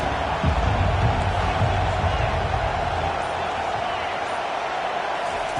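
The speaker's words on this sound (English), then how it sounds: "They challenge this crowd to bring the energy, and I'd say they're doing that." Stadium crowd noise from the NCAA 25 college football video game, a dense, loud, continuous roar of cheering fans holding steady throughout, with a brief thump near the start.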